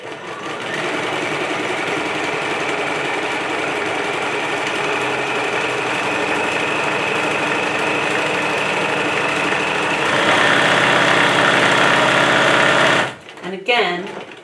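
Sewing machine restitching a Valentine's Day bag, a loud close steady buzzing whir running continuously, growing slightly harder near the end before stopping abruptly, followed by a short moment of handling.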